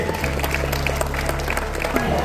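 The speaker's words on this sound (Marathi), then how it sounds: "जोरदार टाळ्या झाल्या पाहिजे सुरभीसाठी," Applause from an audience at a trophy presentation ceremony, steady clapping over a low hum of sound system noise and background voices, with a speaking voice partly audible underneath.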